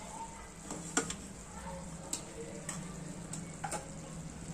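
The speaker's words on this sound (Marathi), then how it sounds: "गूळ टाकल्यानंतर मिक्स करायचं आणि कैरी शिजू द्यायची" Raw mango pieces with jaggery cooking in a pan, a faint soft bubbling sizzle with occasional light ticks and clinks of a spoon stirring, quiet and close.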